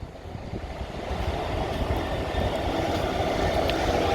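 A freight train hauled by locomotive 66763 rolls past at Kensington Olympia, a steady close rumble of wagons with rhythmic wheel clatter that builds slightly and holds loud to the end.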